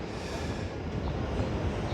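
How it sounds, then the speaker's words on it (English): A New York City 7 subway train rumbles past at Corona Plaza, 103rd Street, a steady broadband roar of wheels and cars that holds at a constant level throughout without letting up. "So there goes the 7 train."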